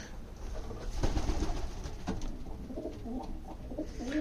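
Roller tippler pigeons in a loft coo softly and repeatedly, close by, with occasional rustles and wing movement amid the birds' steady murmuring.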